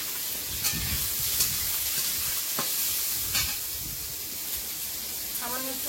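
Onions, chopped garlic and green chillies sizzle steadily in a small amount of oil, a continuous bright frying hiss with occasional stirring clicks, close and fairly loud with no talk over it.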